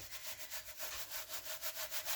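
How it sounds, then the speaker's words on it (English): Paper being rubbed down into glue on a lapbook cover, a steady rhythmic scratchy rubbing repeated about a dozen times, close and alone. "we're just going to kind of rub this down into the glue"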